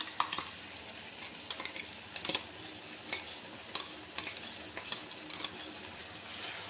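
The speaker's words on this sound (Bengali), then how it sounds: "মশলা একটু নেড়ে নিচ্ছি।" Spices with onions fry in a wok for a Bengali mutton curry, giving a faint, steady sizzle broken by intermittent scraping stirs.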